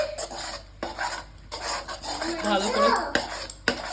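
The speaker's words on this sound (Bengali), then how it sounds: "ভালো করে নাড়াচাড়া করে নেব," Spicy shankar fish curry being stirred in a pan, a spoon scraping and rasping against the metal in repeated strokes, with a brief spoken remark at the start.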